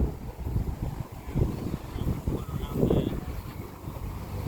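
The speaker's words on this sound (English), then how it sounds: "there's a little breeze coming through now" A light breeze buffets the microphone outdoors at a classic car show, a low, rumbling wind noise that swells and fades in gusts for several seconds, with no speech.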